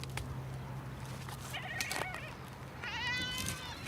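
Goats in the mountains of Crete bleat in two wavering calls, the second louder and more quavering, carried over a quiet outdoor background hum.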